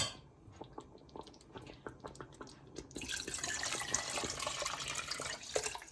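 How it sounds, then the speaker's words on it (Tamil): Scattered drips give way to a steady stream of water pouring into a cooking pot for drumstick biryani, splashing continuously up close. "இப்போ நான் அந்த தண்ணியையும் இதுக்குள்ள ஊத்துறேன்"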